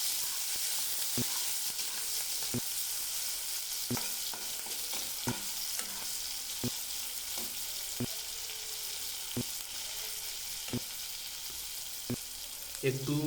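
Chopped green chillies and onion sizzle steadily in hot oil for an Ilish fish dish, with regular spatula knocks against the pan roughly every second under the constant frying hiss.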